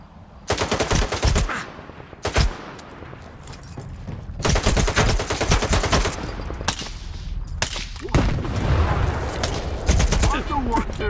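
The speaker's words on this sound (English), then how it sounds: "I'm the one doing the shooting here." Rapid automatic gunfire in the Stalker 2: Heart of Chornobyl shooter game, loud, close bursts of rattling shots separated by short pauses, with a voice speaking between volleys.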